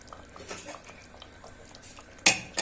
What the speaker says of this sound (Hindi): अब हम कुकर को बंद कर देंगे